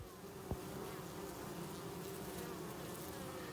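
Honeybees foraging at the entrance of a colony late in the day, packing in pollen, make a steady close buzzing drone that holds throughout with no talking.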